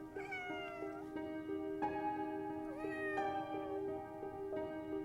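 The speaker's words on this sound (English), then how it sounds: "The cat was a beautiful animal" A cat meows several times in an audio drama adaptation of Poe's The Black Cat, a large black cat, with clear, close, drawn-out mewing calls separated by short pauses over a quiet background.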